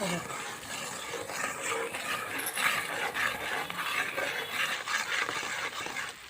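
Thick Mysore pak mixture of gram flour, sugar and ghee stirred hard in a pan in a home kitchen, giving a continuous scraping and sloshing texture at steady close range with faint clatter.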